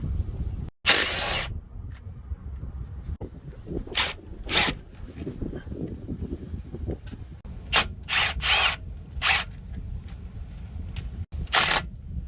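A ratchet or air tool removes U-joint bolts on a Kenworth W900 truck, a handful of short loud bursts separated by pauses over a low background rumble.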